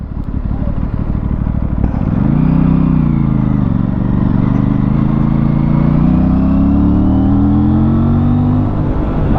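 An Aprilia RS 457 sport motorcycle in sports mode revs hard, its engine note climbing sharply then holding and rising steadily toward about 7000 rpm, loud and close amid rushing wind.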